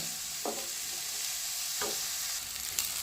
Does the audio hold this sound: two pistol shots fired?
no